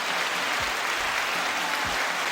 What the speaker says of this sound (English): That deserves a round of applause, Johnny.